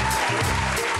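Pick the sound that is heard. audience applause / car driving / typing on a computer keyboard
audience applause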